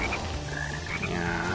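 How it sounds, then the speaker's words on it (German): A frog croaks in the video game Sonic Heroes, a series of short croaks standing out over a layered ambient game backdrop, with no talking. "Frosch in der Nähe aufgespürt."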